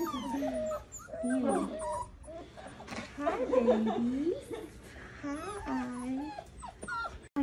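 Australian Shepherd puppies whimper and yelp in high, wavering cries close by at a vet visit for their first shots, mixed with people talking and chuckling softly.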